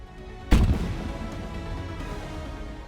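A single booming blast, like a massive star exploding, hits suddenly with a broadband burst and then rolls away into a long, low rumbling decay with no voices.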